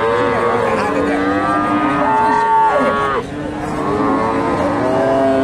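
A cow at a crowded cattle market in Bogura, Bangladesh, moos in long, drawn-out calls that waver and fall in pitch, loud and near, over a steady hum of people talking nearby.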